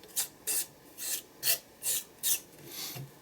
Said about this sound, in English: So I'm going to just scrape it across the page